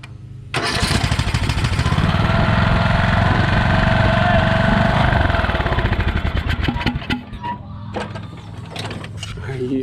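A Craftsman lawn mower engine with a new carburetor sputters to life and runs loudly for several seconds, then drops to a rougher, uneven idle with mechanical rattling.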